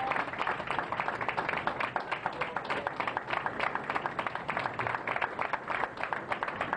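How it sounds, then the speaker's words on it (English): Spectators at a bowling tournament clap for the champion, a crisp, rapid run of individual hand claps from a modest crowd, steady and moderately close throughout. "Great round of applause for our champion, Shelley Witter"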